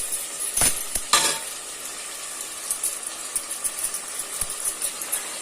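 Mint being sautéed with chicken and masala in a pan for chicken dum biryani, a soft continuous sizzle with a couple of sharp utensil clinks early on and light stirring scrapes.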